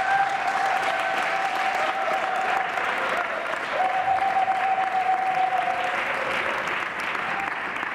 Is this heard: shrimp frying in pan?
no